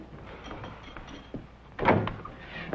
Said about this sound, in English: Deirdre, open the door.